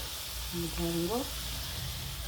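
Tomatoes sautéing in a pan for tomato rice give off a steady, close sizzle, with a short rising hum-like tone midway over the hiss.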